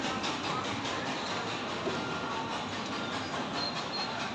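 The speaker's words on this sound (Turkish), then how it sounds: "Evet, rengarenk tırtıl tren." A colorful caterpillar-style kiddie train ride rolls along with a steady, continuous rumble and rattle of wheels, fairly loud and unbroken throughout with no talk.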